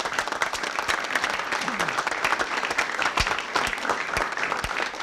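A studio audience at an Indonesian comedy game show breaks into sustained, dense applause, a steady crackle of many hands clapping close by, with a voice briefly rising over the noise.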